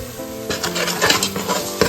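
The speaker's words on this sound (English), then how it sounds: "you stir continuously" Soya chunks frying with turmeric, coriander and chili powder in a pan, stirred continuously with a utensil: close scraping strokes and clinks over a steady sizzle, fairly loud, with no talking.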